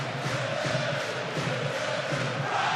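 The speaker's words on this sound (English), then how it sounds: "You can hear the crowd." A rugby league stadium crowd at a 2023 Leeds Rhinos versus Hull FC match roars in a broad, steady wash of cheering that holds loud and even throughout.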